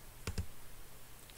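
A computer mouse gives two faint, quick clicks close together, with a third soft click just after, against a quiet room background.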